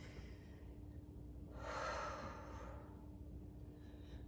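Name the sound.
exhale breath during yoga flow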